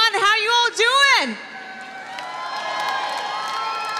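A crowd at the Miss Earth 2015 coronation night cheers and whoops loudly in a brief burst that fades into a softer steady murmur.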